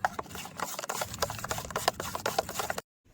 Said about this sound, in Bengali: গরম তেলের সাথে বেসনটা ভালো করে একটু মাহাই নেব